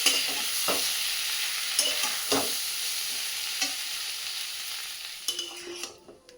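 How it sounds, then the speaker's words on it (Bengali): Vegetables frying and being stirred in a pan along with fish heads, giving steady close sizzling broken by several scraping stirs and utensil knocks, ending with a short clatter. "আনাজগুলো খুব ভালো করে একটু শুধু ভাজতে হবে"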